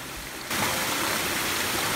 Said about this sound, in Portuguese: Tem uma outra cachoeira aqui atrás.